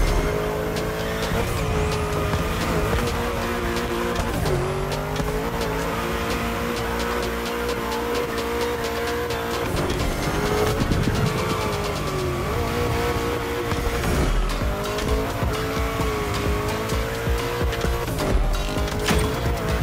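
A car drifts in The Crew Motorfest racing game, its engine revving steadily while tires squeal and skid through bends, loud and continuous with no pauses.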